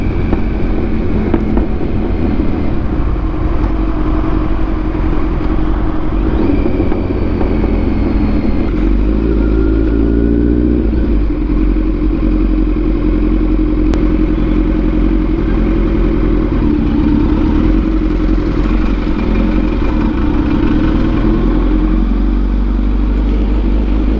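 Traffic jam at the Delhi-Gurgaon border during lockdown, heard from a Kawasaki Z900 motorcycle: a loud, continuous low engine rumble with idling and revving, mixed with other vehicles and wind buffeting the microphone.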